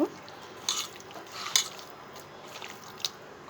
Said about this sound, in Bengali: যতটা সম্ভব খুব ভালোভাবে আমি মাখিয়ে নেব